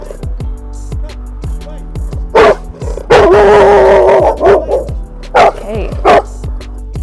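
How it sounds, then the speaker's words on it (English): A black pit bull at a dog park gives a run of sharp, close barks and yips, several in quick succession with a longer whimpering cry, while a person speaks briefly. "We have a beautiful black dog that approached us. I have a black pit bull over here."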